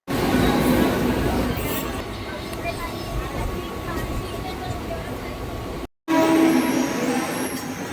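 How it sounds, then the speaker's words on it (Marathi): A train pulls in at Juinagar station with a steady, loud rumble and rattle of wagons that keeps going, cut by one brief dropout near the end. "मंडळी ट्रेन आलेली आहे"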